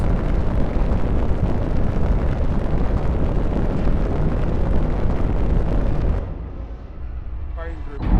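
Spaceship thruster firing in SpaceBourne 2, a loud continuous roaring rush that holds steady for about six seconds, then cuts back to a quieter rumble before surging again at the end.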